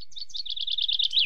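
A bird chirps in a garden, a quick run of bright, close tweets repeating steadily for about a second, with faint low background noise.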